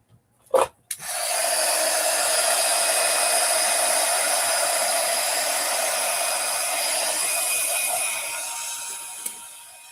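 A hair dryer dries a craft project: after a brief click and rustle it starts up and blows a steady, loud, close whoosh for about eight seconds, then cuts off.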